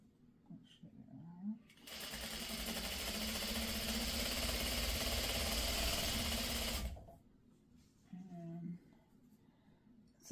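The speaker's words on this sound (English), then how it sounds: "So I will continue to sew these together." A sewing machine stitches quilt fabric pieces together, running in one steady, fast whirring burst of about five seconds, with soft speech-like sounds and handling noises before and after.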